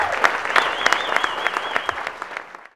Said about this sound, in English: So let's give a round of applause, graduates, to the people who have helped bring you here today.